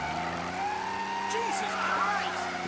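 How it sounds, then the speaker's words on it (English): Car tires squeal in a street scene from Mafia: Definitive Edition, a sustained screech with rising and falling pitch over a running engine, loud and near, without speech. "It's just loud tires."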